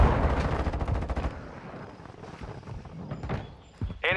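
Gunfire in a Call of Duty match, a burst of rapid automatic shots up close at the start, then scattered distant shots and game effects.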